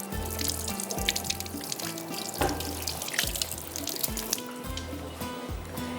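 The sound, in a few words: washing hands under running tap water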